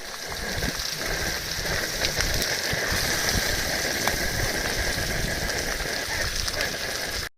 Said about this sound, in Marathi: पाऊस पण आला थोडा मित्रांनो.